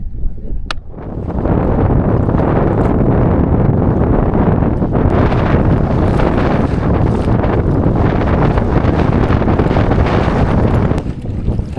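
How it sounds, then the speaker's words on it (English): Strong, relentless wind on a lake buffets the microphone in a loud, continuous roar with gusting surges, drowning out any other sound for the whole stretch. "this wind will not let up. It is ridiculous how windy."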